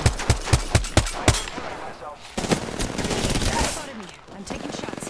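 Gunfire in the Apex Legends shooter, a rapid rhythmic string of about seven loud shots up close, then denser chaotic firing and action noise, with a voice talking over it.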